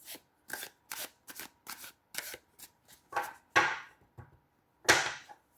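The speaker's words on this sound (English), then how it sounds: "I'll take and shuffle it in small chunks" Crisp, papery riffles of a tarot deck being shuffled in small chunks, about a dozen quick snaps at a steady rhythm, close up with quiet gaps between.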